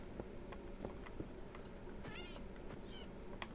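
Cats meowing in the video game Minecraft Bedrock Edition, several faint high meows over a steady noisy background, spaced irregularly through the short stretch.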